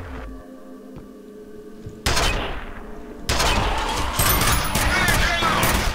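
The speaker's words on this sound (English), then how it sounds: "This shoots big nails." Nail gun firing in the shooter game F.E.A.R., a quiet stretch giving way to loud, dense repeated shots and metallic impacts that grow heavier toward the end, with a voice talking.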